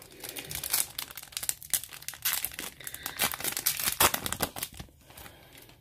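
A Yu-Gi-Oh Speed Duel booster pack is torn open by hand, with close, busy crinkling and tearing of the foil wrapper in quick irregular bursts.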